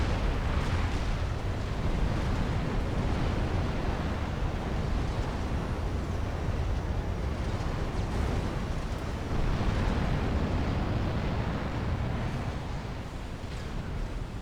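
Attack missiles launch in a Supreme Commander 3v3 match on the 6-Icelands map, the barrage heard as a dense, continuous roar of rumbling blasts and explosions, loud and sustained with no pauses.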